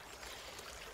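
River water flowing in a steady, even rush, close and continuous with no voices over it.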